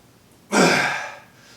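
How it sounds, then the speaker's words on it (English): A single forceful breath is let out, a loud rushing exhale after a heavy squat repetition done with the breath held, sharp at the start and tailing off over about a second. "squat and breathe out as soon as you're up"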